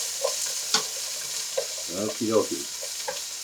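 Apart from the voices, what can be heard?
stir-frying tofu in a wok with wooden paddles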